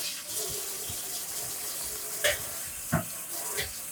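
Water runs and splashes steadily at low volume, with a few brief louder splashes or clinks mixed in.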